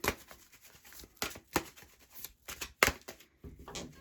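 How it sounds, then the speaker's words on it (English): A deck of oracle cards is shuffled by hand, giving soft, close riffling and slapping bursts in an irregular rhythm with short pauses between them, quiet and without talk. "Some people like to just give the cards a good shuffle."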